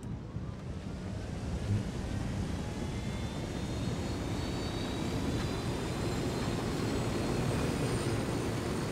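A helicopter flies in Ghost Recon Wildlands, a steady loud rotor-and-engine drone that holds constant throughout with a broad wind-like rush and no talk.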